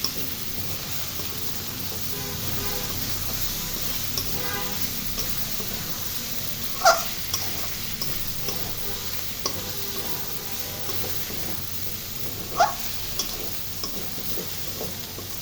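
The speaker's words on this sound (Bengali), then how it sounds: "এবার একটু চুলার আঁচটা বাড়িয়ে ভাজা ভাজা করে নিলাম যেন সম্পূর্ণ পানি শুকিয়ে" Pointed gourd and jackfruit seeds frying in oil over a high flame, a steady close crackling sizzle with occasional sharp ticks and two louder clacks of a utensil against the pan, and no voices.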